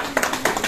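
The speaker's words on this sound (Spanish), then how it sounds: "¡Un aplauso!" A few quick hand claps ring out close by at a family birthday celebration for a mother, brief and loud.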